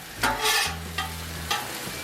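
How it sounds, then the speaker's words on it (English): Tortellini and onion sizzling on a Blackstone griddle, a close spatula scrape followed by a steady sizzle and a couple more brief stirring strokes, with no talking. "I think the key to keeping things cooking on the Blackstone is to keep them moving"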